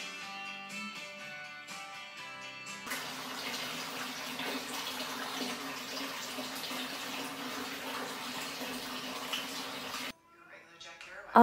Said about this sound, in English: 'tis the season for a Lush pumpkin bath bomb